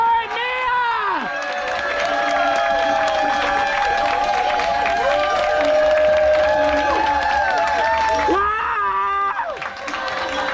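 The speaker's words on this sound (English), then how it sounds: "Big round of applause for Mia." Audience on a cruise ship applauding and cheering for a crew member, with a crowd clapping and whooping under and around an amplified voice, and a swell of cheers near the end.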